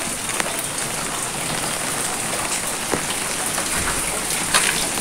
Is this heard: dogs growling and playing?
no